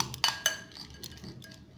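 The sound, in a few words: mixing peanut chaat ingredients in a bowl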